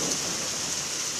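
Steady, dense rain pouring down, a continuous hiss of drops on surfaces with no voices.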